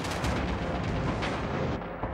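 Artillery fire in the World War II shooter Red Orchestra 2, a dense, continuous roar of booming blasts and rumbling explosions with scattered gunfire, loud and close throughout with no talking.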